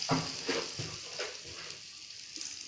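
Onions sautéing in a pan with garlic and curry leaves, for a pirandai thuvaiyal, a soft low sizzle with gentle stirring scrapes, fairly quiet and without talk.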